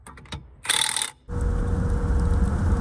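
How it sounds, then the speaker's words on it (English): A Milwaukee impact wrench checks and tightens the bolts holding hammers on a tub grinder, a brief loud rattling burst followed by a steady mechanical drone nearby. "We're using our Milwaukee Impact to check and tighten all of the bolts that hold the knives or hammers in"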